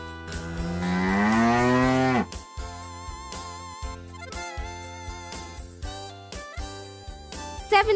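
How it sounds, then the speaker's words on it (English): A cow moos once, a long loud drawn-out low that rises and then fades, followed by background music with a steady beat. "Cow"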